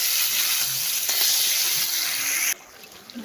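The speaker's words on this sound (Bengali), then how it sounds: "জিরা আর লঙ্কা দিয়ে দিয়ে দিছি এবার ভালো করে কষানো হোক" Cumin seeds and green chilies fry in hot oil with a loud, even sizzle and stirring scrapes that drop off sharply to a quieter hiss near the end.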